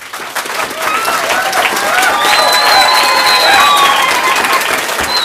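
An audience at a public hearing on a light rail draft environmental impact statement breaks into loud, sustained clapping and cheering, swelling and holding with a few whoops and murmured voices mixed in.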